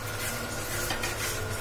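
Mutton curry with spices being stirred and scraped steadily in a pot for Bengali mutton kosha, a continuous rubbing, grating texture with a faint sizzle, no talking.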